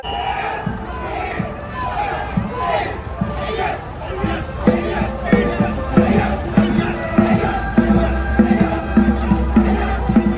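Spectators cheer and clap for the winning crews at the Aberdeen dragon boat race in Hong Kong, a dense lively crowd noise with shouting and babble swelling toward the end, while an announcer speaks over a loudspeaker.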